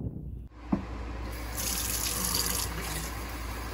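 Tap water gushes steadily from a kitchen faucet into a sink in the town of Bishop, starting after a brief click and continuing as a close, even rushing stream with no voices.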